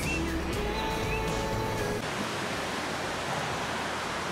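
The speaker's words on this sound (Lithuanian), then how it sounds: "Upė tekanti." A mountain river in the Austrian Alps rushes along in a steady, full roar of flowing water, continuous and fairly close, with faint tonal whines over the first two seconds.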